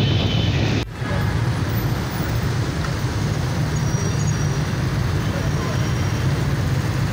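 Dense Karachi road traffic rumbles continuously, with engines of cars, buses and trucks blending into a loud, steady roar, broken only by a brief dip near the start.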